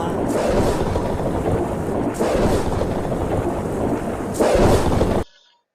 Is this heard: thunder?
yes